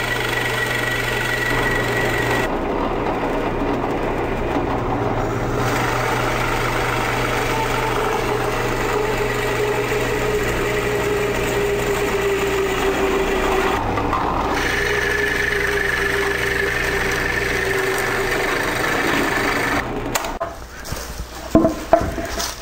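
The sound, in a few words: drill press boring wood with Forstner bit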